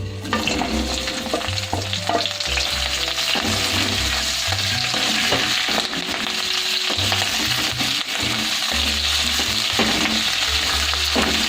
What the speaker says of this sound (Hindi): मिर्च को हमने 2 से 3 मिनट तक भूनना है, इसी तरह से फ्राई करना है